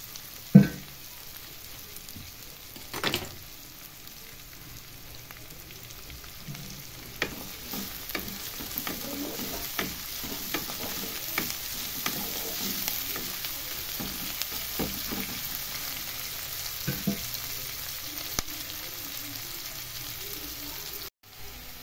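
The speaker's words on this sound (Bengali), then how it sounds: "পেঁয়াজ আমার হালকা ভাজা হয়ে গেছে।" Onions sizzle lightly in a pan for ghugni, a soft continuous frying hiss with scattered scrapes and knocks as they are stirred, fairly quiet and close, no talk.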